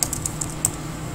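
Quick keystrokes on a laptop or desktop computer keyboard, a short burst of several light, close clicks with no talking.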